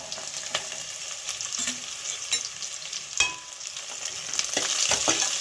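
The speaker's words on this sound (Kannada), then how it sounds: "ಇದಕ್ಕೆ ನಾವು ಕೊಬ್ಬರಿ ಹಾಕೊಳ್ಳೋಣ ಹಂಗೆ ಹುರ್ಕೊಂಬಿಡೋಣ" Steady dry sizzling and scraping as grated dried coconut roasts in a hot pan, with occasional stirring clatter, close and continuous with no voices.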